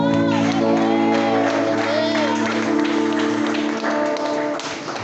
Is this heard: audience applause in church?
yes